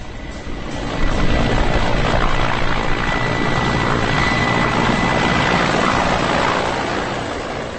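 HAL Prachand attack helicopter in flight, a steady broadband rotor-and-engine roar that swells after the first second and holds loud and continuous before easing slightly toward the end, with no voices.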